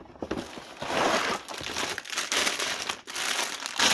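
A plastic bag of LEGO pieces crinkles and rustles close up in continuous handling, crackly bursts rising and falling over several seconds, with no talking.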